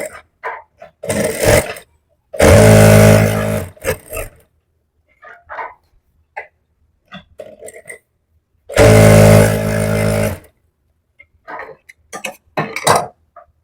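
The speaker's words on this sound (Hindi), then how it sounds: "अब हम आसन की सिलाई लगाएंगे" A sewing machine stitches the seat panel of a salwar in two loud bursts of rapid whirring, separated by short clicks and handling noises.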